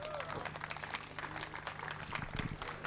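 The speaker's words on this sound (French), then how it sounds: "Vous pouvez l'applaudir, Dominique Lansard." An audience applauds during a prize-giving ceremony in Abreschviller as a gift is presented, a steady, fairly quiet patter of many hands clapping throughout.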